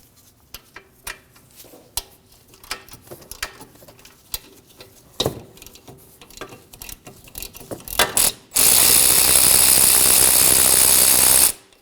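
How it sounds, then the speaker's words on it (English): A ratchet with a 14mm socket works a rear brake caliper bracket loose on a 2013-2015 Subaru XV Crosstrek, giving rapid close clicking bursts, followed by a loud steady mechanical rush near the end, with no talking. "Next, we'll remove the bracket using a 14mm socket and a ratchet."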